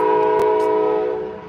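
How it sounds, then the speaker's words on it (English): A loud passing train holds a steady horn chord that fades slightly toward the end, with a brief clank partway through, close and dominant. "that train is loud"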